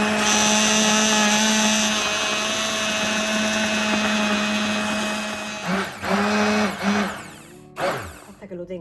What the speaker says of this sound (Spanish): Con una batidora de brazo lo molemos todo.